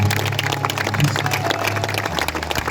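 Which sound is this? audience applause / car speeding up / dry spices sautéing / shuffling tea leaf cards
audience applause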